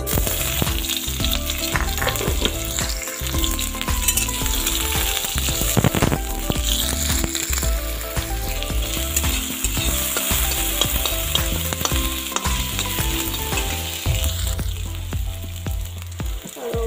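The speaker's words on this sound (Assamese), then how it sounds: "পিঁয়াজখিনি অলপমান ৰঙা হোৱালৈ ভাজি আছিলোঁ" Onions fry in a pan for a mustard-based drumstick curry, with a continuous loud sizzle and occasional stirring scrapes, close up.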